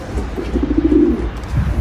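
A Mulemans pigeon coos close by, a low, soft, rolling call that swells and fades.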